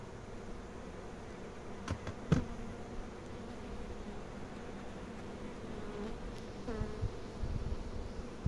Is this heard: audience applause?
no